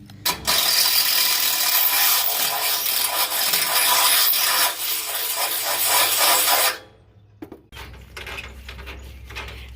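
A power drill whines loudly and steadily for several seconds while enlarging holes, then stops abruptly, followed by quieter clicks and handling noises.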